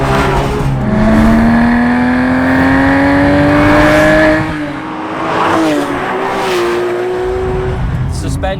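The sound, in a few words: Porsche GT3 3.8 litre Metzger flat-six engine driving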